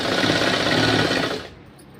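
A sewing machine stitching a folded blouse hem, a short, close burst of fast rhythmic clatter that stops abruptly after about a second and a half.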